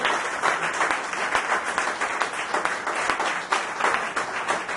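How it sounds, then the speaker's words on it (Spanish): Congregation applause at a church service, a steady wash of many hands clapping, moderately loud and continuous throughout, with scattered sharper claps standing out. "¿Por qué no le da un aplauso al Señor, hermano?"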